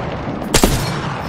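Gunfire in a video game shooter, heard as a single sharp, loud blast with a quick follow-up crack over steady background noise.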